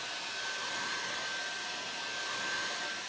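A hair dryer runs continuously over a freshly painted piece, its steady airy whoosh and faint motor whine filling the moment, close and uninterrupted, with no talking.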